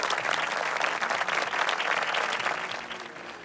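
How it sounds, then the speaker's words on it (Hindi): Studio audience applauding on a Ramadan quiz game show after a correct answer, a dense steady round of clapping held at one level that thins slightly toward the end. "तालियां होनी चाहिए"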